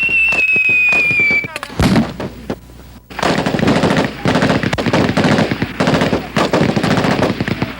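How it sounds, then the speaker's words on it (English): Blank ammunition gunfire and simulated claymore mines erupt in a night desert ambush during Ranger training, with loud rapid automatic bursts, sharp blasts and dense crackling volleys after a brief high whine at the start. "Using simulated claymore mines and blank ammunition,"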